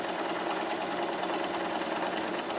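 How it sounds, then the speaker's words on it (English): A sewing machine stitches fast and steadily during free-motion stippling on a quilt, with the fabric gripped by hand. The motor whirs close up and loud, and the needle chatters continuously the whole time. "I just grip the fabric on both sides and I start stitching"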